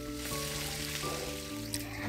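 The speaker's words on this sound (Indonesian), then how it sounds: "Lanjut aku mau bikin sambal, jadi aku goreng cabai, tomat," Chilies, tomatoes and onions frying for sambal make a soft, continuous sizzle over a low steady hum, heard faintly and without talk.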